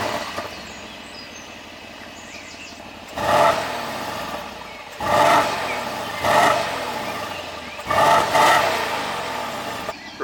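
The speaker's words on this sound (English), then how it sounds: "we're going to give the car a start up and some revs" Mercedes-AMG GLC 63 V8 compact SUV starting up, then three loud revving bursts over a steady idle in comfort mode.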